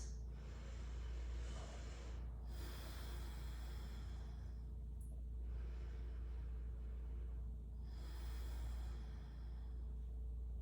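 Slow, deep breaths drawn during a yoga tree pose come in soft, airy waves every couple of seconds, quiet and close over a low background rumble.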